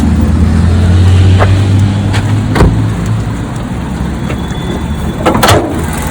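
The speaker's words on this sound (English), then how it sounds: "You can see the engine is running." A 2012 Hyundai Elantra engine idles with a steady low rumble and the bonnet open, with a few brief higher clicks and knocks over the top; no talking.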